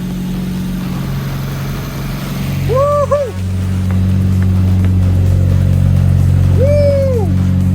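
A Nissan Silvia with a newly fitted SR20 engine, just converted from naturally aspirated to turbo, runs with a steady, loud low hum close by while people cheer over it.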